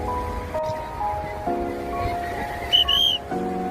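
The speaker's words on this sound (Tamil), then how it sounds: "இந்த பீச் மார்ஷல் விசில் பண்ணி வார்ன் பண்றாரு" A beach marshal on a Goa beach blows a whistle to warn swimmers as the tide rises: one short shrill blast stands out near the end over steady surf and faint background sounds.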